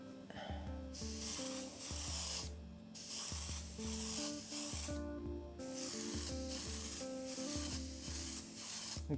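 Bursts of airy spraying hiss from a Colani airbrush spraying thick paint with a wide needle repeat in steady passes, each a second or two long, over a low mechanical compressor hum.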